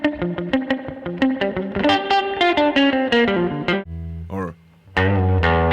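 An electric guitar plays through a Carl Martin Headroom reverb pedal set for a darker reverb. Picked notes and chords run in a quick rhythm, a held note rings and fades, then a full strummed chord sounds loud and close.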